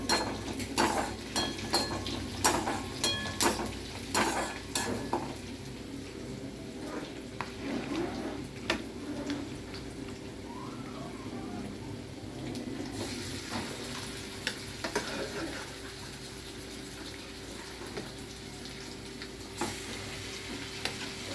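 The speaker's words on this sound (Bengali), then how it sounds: "আলুটা ভাজছি" Potatoes fry in mustard oil in an iron wok, a continuous soft sizzle with sharp clinks and scrapes of a utensil stirring, most frequent at the start, and sparser taps later.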